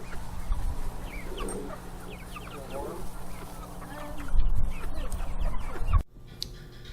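Chickens cluck and squawk in scattered calls close by, building to a louder burst before cutting off abruptly near the end.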